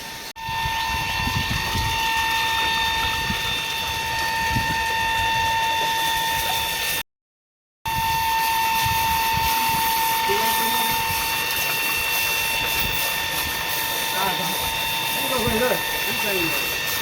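A water pump motor drones steadily with a constant tonal hum, mixed with splashing and clatter nearby from washing farm equipment; the sound cuts out briefly partway through.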